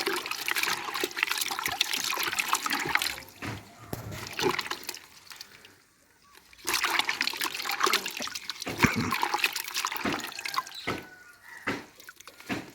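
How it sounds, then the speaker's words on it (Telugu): Water splashes and trickles steadily as it is poured onto plants, pausing briefly midway before the pouring resumes nearby. "ఈ నీళ్ళు మొక్కలకు పోస్తా"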